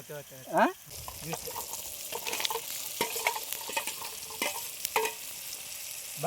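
Dried goat meat curry cooks tribal style in a pot and gets stirred, a soft frying sizzle with repeated scraping strokes, after a brief voice at the start.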